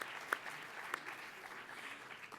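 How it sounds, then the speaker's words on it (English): An audience at a lecture on global food prices gives visiting students a round of applause, a brief, even spatter of many hands clapping with a couple of sharper claps standing out. "please give them a round of applause"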